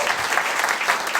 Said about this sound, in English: can we have a specific round of applause for Ben Ellwood, who's done a great job on the podcast this season?